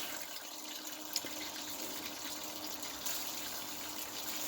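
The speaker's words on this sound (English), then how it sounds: "next we're going to pan the stuff we just ran through the cleanup sluice" Water sloshing and trickling steadily as material from a cleanup sluice is panned for gold, a continuous close wash of liquid with a couple of faint clinks and no talking.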